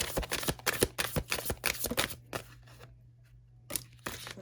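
Tarot cards are shuffled and drawn in a reading, with quick rapid riffling bursts and crisp slaps up close, then a pause before a few more card snaps.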